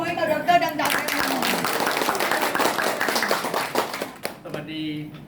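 Applause at a company gathering, a crowd clapping steadily for several seconds between spoken remarks, with voices heard before and after it.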